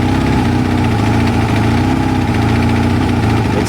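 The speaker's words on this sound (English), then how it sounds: "It's still running on choke." A Kawasaki ZL600 motorcycle engine idles steadily on choke, a loud, close, continuous mechanical rumble with even pulsing and no voices over it.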